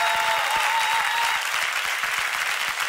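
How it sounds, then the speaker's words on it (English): A church congregation claps loudly and steadily, dense applause filling a large room, with a brief cheer or whistle rising early on. "let's really clap our hands."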